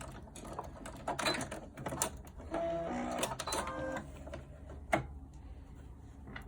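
A sewing machine back-tacks a seam on a cloth face mask with a short run of quick mechanical stitching clatter. It sounds close and moderately quiet, with small clicks and a brief pause in the middle.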